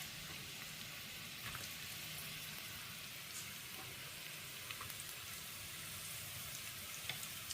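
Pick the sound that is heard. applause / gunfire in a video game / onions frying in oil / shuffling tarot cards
onions frying in oil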